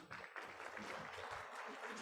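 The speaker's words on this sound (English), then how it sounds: "So a big round of applause for Doug" Applause from an audience at a meeting honoring the organizer of a Bryan Adams Mini Masters tournament; steady, dense clapping fills the whole stretch at moderate level, with faint voices mixed in.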